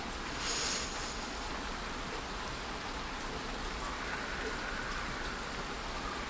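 Steady rain falls as calming background for a soothing bedtime story, an even, hissing patter of drops that stays constant and moderately soft throughout, with no voices.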